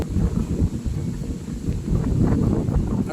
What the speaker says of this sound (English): Weather is very windy right now, as you guys can hear the wind.